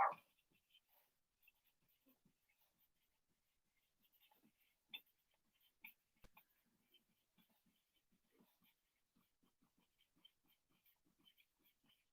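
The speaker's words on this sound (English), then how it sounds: "dogs are giving it beans" Several dogs bark in the distance, faint and intermittent, with sparse yaps and a few louder bursts scattered over quiet background.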